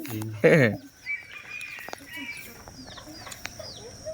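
A hill jungle fowl rooster gives one short loud call near the start, followed by softer scattered clucks and thin bird chirps over a quiet background, with some faint human voice in the mix.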